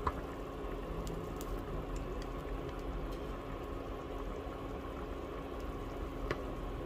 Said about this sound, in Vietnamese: khi nước sôi lên thì mình hạ lửa nhỏ xuống một xíu mình hầm tiếp